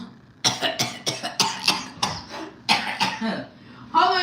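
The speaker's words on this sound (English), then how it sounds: "You got to kind of like cough it out." A person coughs hard and repeatedly after nearly choking, a run of about eight loud, ragged bursts close to the mic, ending in a rough throaty push.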